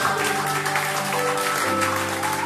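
Worshippers in a Jakarta church applaud, a steady wash of clapping hands heard over sustained organ-like tones, continuous and fairly loud for the whole short stretch.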